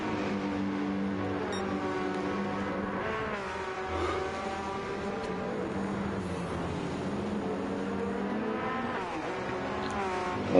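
Race cars roar around the Monza circuit, engines revving and rising in pitch as several cars pass and accelerate out of the chicanes, a loud continuous mechanical drone.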